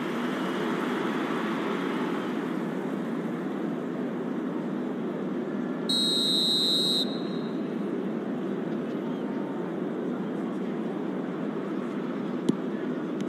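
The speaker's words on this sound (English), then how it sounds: "And the whistle's gone, presumably for offside." A referee's whistle in the eFootball 2026 football video game blows one steady, shrill blast lasting about a second over continuous stadium crowd noise during an Inter Milan match.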